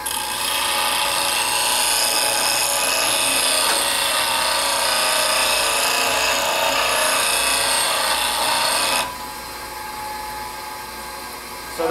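Woodturning tool being sharpened on a bench grinder, a steady continuous grinding rasp for about nine seconds before it eases to a quieter whir.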